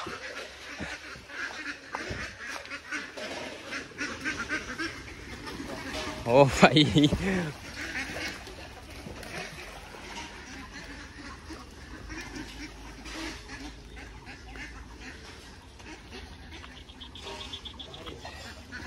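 A large flock of farm ducks, over ninety birds, quacks while heading into a pond, with a loud burst of calls midway over background insect chirping and people talking.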